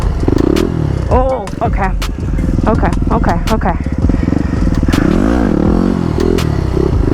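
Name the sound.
supermoto motorcycle engine revving in second gear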